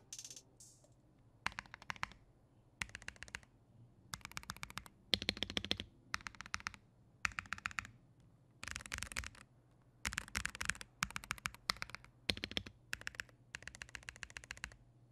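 Higround x Sonic mechanical keyboards typed on in repeated bursts, crisp clacky keystrokes in quick runs separated by short pauses, close and clear with no talking.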